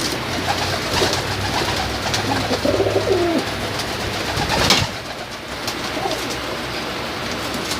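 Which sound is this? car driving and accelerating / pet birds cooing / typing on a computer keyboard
pet birds cooing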